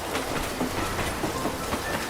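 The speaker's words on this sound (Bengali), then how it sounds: "ট্রেনটা যেমন এসছিল তেমনই চলে গেল বৃষ্টি মাথায় নিয়ে" Cartoon sound effect of a train pulling away in the rain, a steady rumble with rhythmic clatter under a wash of rainfall, moderately loud throughout.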